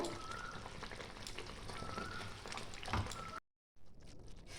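Pabda fish simmering in a mustard curry, a steady bubbling, crackling boil heard close up, continuous for several seconds before a brief break.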